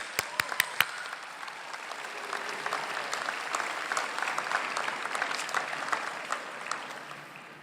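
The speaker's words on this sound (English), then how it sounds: "Let's thank them for their efforts with a round of well-deserved applause." Applause from the audience at an LSU College of Art and Design spring commencement ceremony, a few sharp single claps first and then steady, moderately distant clapping from a large hall crowd.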